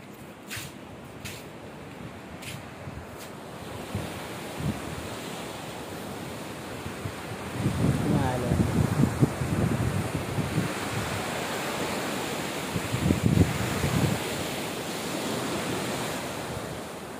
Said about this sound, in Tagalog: Yan, karagatan sa likod natin.